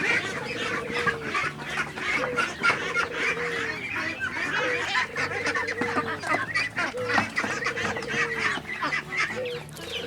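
A flock of Pekin ducks on a meat duck farm quacks and honks continuously, with overlapping nasal calls repeating in a loose rhythm at moderate distance and a busy background of farm noise.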